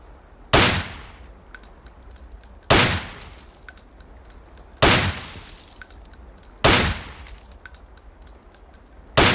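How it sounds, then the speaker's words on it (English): Pistol fired at short-range targets on a Ghost Recon training range: five sharp, loud single shots spaced about two seconds apart, each followed by a short ringing decay and faint metallic clinks. "switch to the pistol, and practice hitting the short-range targets"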